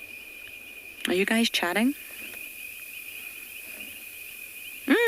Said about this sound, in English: I can hear all the insects.